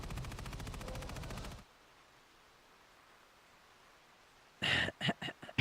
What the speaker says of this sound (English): Especially when you hear tanks and gunshots still going down like crazy.